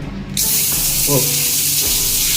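A hotel bathroom bidet switches on with a sudden strong hiss of spraying water that continues steadily and loudly, while a voice briefly exclaims over the spray.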